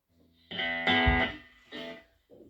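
A few short bursts of distorted electric guitar from a Harley Benton TL kit guitar, gritty and sustained, with brief pauses between strums.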